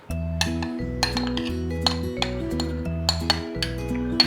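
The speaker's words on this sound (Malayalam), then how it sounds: "അപ്പോൾ ഇത് നമുക്ക് മിക്സ് ചെയ്യാം." Fried chicken tossed with dynamite sauce in a dish, with utensils clinking and scraping against it in a steady run of knocks over music-like tonal background.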